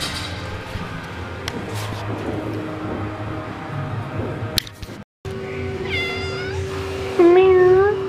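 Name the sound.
shop cat meowing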